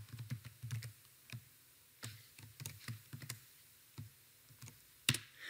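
Quiet typing on a computer keyboard during a Python programming lesson, with irregular bursts of soft key clicks and a sharper tap near the end, close and alone.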